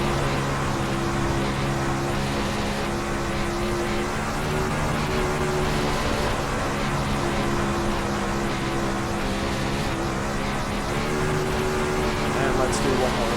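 A winged sprint car engine lapping in iRacing with wing angle reduced, a steady droning roar held at high revs throughout, with someone talking over it.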